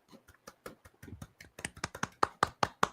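A small group claps a quick round of applause in a casual football chat setting, starting with sparse taps and building to sharper, louder claps close to the microphone.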